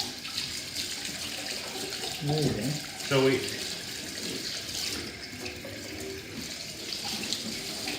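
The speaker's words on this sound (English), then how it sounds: "So first we'll wash the pepper" Tap water runs steadily into a sink while a green capsicum is washed, with splashing bursts as the pepper passes under the stream and people talking over it.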